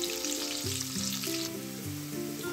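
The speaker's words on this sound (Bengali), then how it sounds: "উচ্ছেটা ভাজা হয়ে গেছে" Pieces of bitter gourd fry in oil with a low, even sizzle, close and continuous, while a melody plays in the background throughout.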